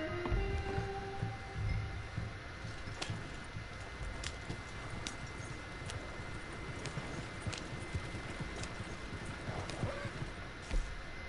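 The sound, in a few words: horse galloping hooves in video game Red Dead Redemption 2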